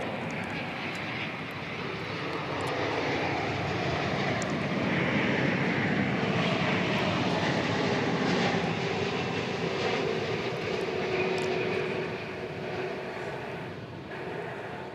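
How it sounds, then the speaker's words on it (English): An American Airlines Boeing 787 Dreamliner arrives at DFW Airport, its jet roar swelling to a peak midway and then slowly fading, broadband and fairly distant, with no talk. "Here is an American Airlines Dreamliner arriving from what? Seoul?"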